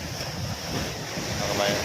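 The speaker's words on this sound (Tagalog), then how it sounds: "Medyo mahina na yung alon, hindi na katulad yung nakaraan na araw." Steady rushing surf with gentle swells after a typhoon, mixed with wind buffeting the microphone; a continuous outdoor roar with no clear breaks.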